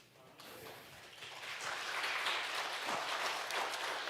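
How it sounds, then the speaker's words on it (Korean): A Korean church congregation applauds during a revival meeting, the clapping building from quiet to a full, dense roar of many hands that holds steady to the end, with no talk over it. "하나님께 영광의 박수 한번 올려드릴까요?"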